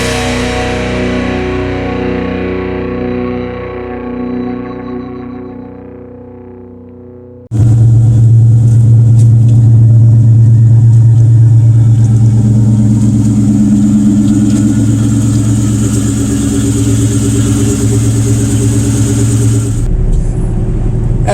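Cobra car engine on a mountain road in western North Carolina, a fading tone giving way to a sudden loud, steady engine drone with a deep low rumble while cruising, briefly dropping near the end.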